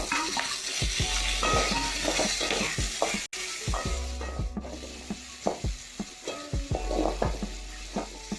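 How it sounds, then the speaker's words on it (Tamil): Onions and tomatoes sauté in a pan for a mint, curry leaf and coriander chutney, a steady close sizzle broken by repeated scraping strokes of a spoon against the metal pan, with no voices. "இப்போ இதுல தக்காளியை சேர்த்து வதக்கிக்கலாம்"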